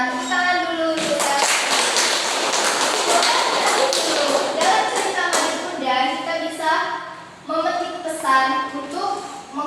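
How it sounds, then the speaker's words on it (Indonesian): Children clap together in a second-grade Indonesian language classroom, a short burst of rhythmic hand claps mixed with young voices chanting and talking over it. "Iya, tepuk tangan dulu."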